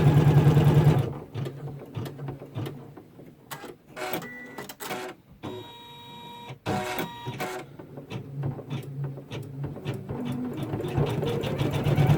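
An embroidery machine stitches a design with a loud, fast mechanical whirring and rattling drone. It pauses briefly in the middle with a few clicks and softer motor tones, then resumes steadily.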